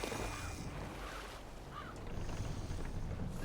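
A sailing ship under sail in the video game Assassin's Creed Valhalla, steady wind rush and water wash against the hull, broad and continuous with no talking.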